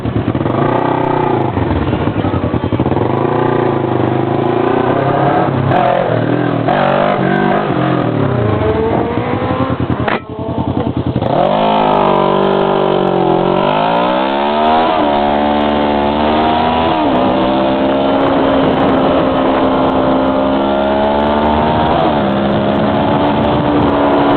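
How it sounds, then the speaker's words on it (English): Several motorcycle engines roar loudly and continuously, revving up and down with overlapping pitches as they ride along together. "This is what owning a motorcycle is all about."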